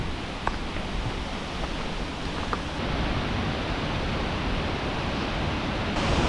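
Water pours steadily at the Watagataki Waterfall in the Tedori River Gorge in Hakusan, Japan, a dense constant rushing roar with light wind buffeting and no pauses.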